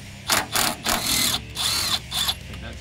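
A power drill with a 10mm socket backs out a bolt during a radiator replacement on a Jeep Wrangler JK, giving several short whirring bursts of about half a second each, close and fairly loud, with no talk.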